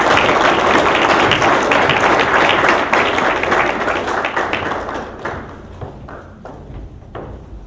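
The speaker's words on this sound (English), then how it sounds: "Give them an extra round of applause." Loud, dense applause from an awards ceremony audience for security services staff, holding strong before thinning out into scattered individual claps that fade toward the end.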